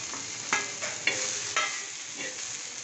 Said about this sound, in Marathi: दोन मोठे कांदे घेतले ते लांब चिरून घेतले ह्याच तव्यावर आपण आता भाजून घेऊ